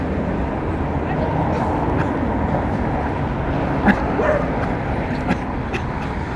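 A dog barks a few times in the distance over steady outdoor background noise, with people talking quietly nearby on Konovaltsia Street, Lviv, Ukraine.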